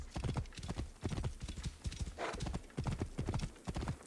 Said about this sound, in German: Ich liebe das, wenn Pferde diese Geräusche machen.